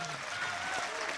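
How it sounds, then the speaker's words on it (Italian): Crowd at an outdoor political rally in Turin applauding, a dense, steady wash of clapping and crowd noise, fairly distant and moderate in level throughout the short moment. "questo è un applauso che mandiamo"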